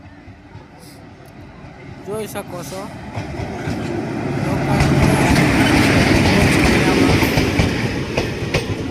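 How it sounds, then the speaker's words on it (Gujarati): A Rajkot–Veraval local passenger train rumbles in close by, its clattering wheels and growing roar building steadily while someone speaks briefly over the noise. "આપણી લોકલ આવી ગઈ છે Rajkot Veraval local passenger train"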